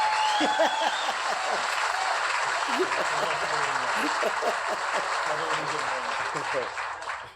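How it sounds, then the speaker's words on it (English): A round of applause for a man who has just earned a degree in ministerial leadership, steady clapping filling the room with voices and a little laughter mixed in, fading at the end. "Round of applause for that man for getting that degree."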